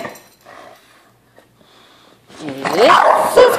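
A dog barks and growls close by, a burst of rough yelps rising loud near the end after quieter sounds.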